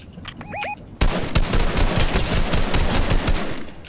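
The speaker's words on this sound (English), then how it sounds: "He's shooting someone else here." Rapid automatic gunfire from the video game Fortnite breaks out suddenly after a few short electronic tones, then continues as dense, loud, repeated bursts without pause.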